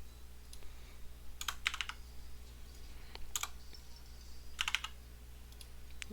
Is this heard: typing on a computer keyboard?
yes